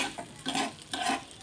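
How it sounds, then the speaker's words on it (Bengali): Broken wheat (daliya) frying in ghee over low heat, stirred in a pan in two short scraping, sizzling strokes, close and fairly loud, with no voices. "এটা ভালো করে ঘিয়ের মধ্যে একটু ভেজে নিতে হবে"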